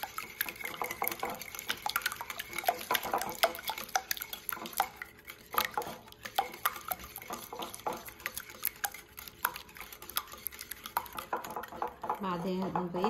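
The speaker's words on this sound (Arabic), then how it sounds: "نضيف الزيت، نحرك المواد كلها سوا إلى أن تتجانس" Cookie dough ingredients with added oil are stirred in a bowl, producing close, uneven scraping and clinking of a utensil against the bowl with wet, sticky squelches, continuing throughout.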